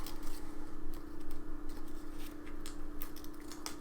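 Scissors snip through paper while cutting out penguin shapes for a paper craft, a steady run of quick, close crisp cuts over a constant low hum.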